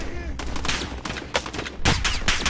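Repeated sharp gunshots in Call of Duty Warzone, with sniper rifle fire among them, ring out loud and close, several distinct blasts spaced irregularly over a couple of seconds.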